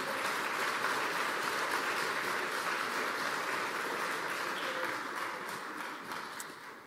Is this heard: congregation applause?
yes